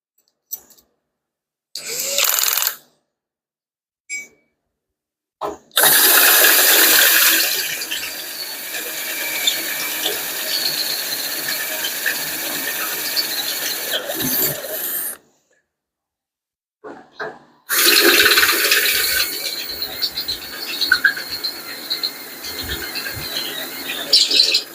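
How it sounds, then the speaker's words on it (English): A step drill bit cutting a hole during a 6.4 Hemi engine test stand build, two long loud grinding bursts with a high squealing edge, separated by silence and preceded by a few brief short starts. "I'll drill one step bigger."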